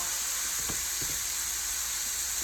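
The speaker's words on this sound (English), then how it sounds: "I'm going to give this a little bit of a stir." Food sizzling in a frying pan for spaghetti marinara, with a steady loud hiss and crackle throughout and a few soft scraping stirs of a utensil near the start, close and with no talking.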